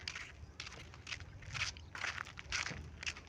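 Several people walking on foot along a rural path toward a river crossing where the bridge is not yet built, with soft, irregular steps crunching close by over a steady low background.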